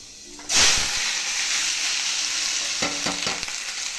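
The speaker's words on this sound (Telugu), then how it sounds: "నూనె కాగిపోయింది. మెంతులు వేసుకోవాలి ఫ్రెండ్స్ ఫస్ట్." Fenugreek seeds hit hot oil in a pan for egg curry, bursting into a loud, steady sizzle that fades slightly and continues alone, with a few stirring scrapes near the end.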